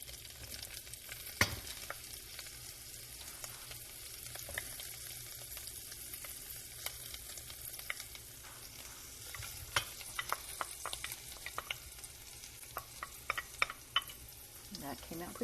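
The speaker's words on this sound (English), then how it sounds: "going to put my sausage in here to cook" Sausage frying in a pan for sausage gravy, a continuous soft sizzle broken by scattered scrapes and taps of a utensil against the pan, moderately close.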